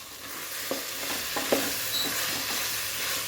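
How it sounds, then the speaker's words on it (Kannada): Vegetables cooking in masala for a vegetable biryani, a steady hiss of frying with soft scrapes and knocks of a spoon stirring in the pan, close and continuous. "ಈ ಮಸಾಲೆಯಲ್ಲಿ ಒಂದು 2 ನಿಮಿಷ ಬೇಯ್ಕೊಳ್ಳಿ"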